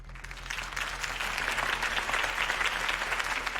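Crowd applause at a political campaign rally in the video game Batman: The Telltale Series, sustained dense clapping from a large audience that swells slightly and holds steady throughout.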